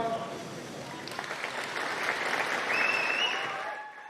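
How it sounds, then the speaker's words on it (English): Staff and colleagues applaud Keir Starmer as he steps down, a steady wash of clapping from a nearby group that swells slightly before tapering off at the end. "To the sound of applause from staff and colleagues, this was Sir Keir Starmer's closing act."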